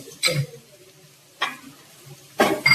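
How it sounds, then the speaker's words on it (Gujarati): Finely chopped garlic goes into onions frying golden brown for a Gujarati-style pasta, giving three short bursts of sizzling and stirring separated by quieter pauses. "હવે આપણે એની અંદર નાખશું લસણ જે મેં બારીક સમારેલું છે"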